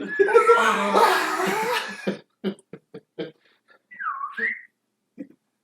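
Talk and laughter at first, then a short human whistle sliding down and back up, imitating a slide whistle, with a few coughs around it.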